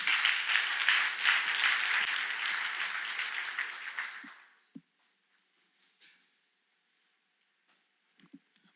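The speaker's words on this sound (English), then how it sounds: "Give him a round of applause." Conference audience at a lightning talk session applauds steadily for about four seconds, then the clapping fades into near silence broken by a few faint knocks and rustles.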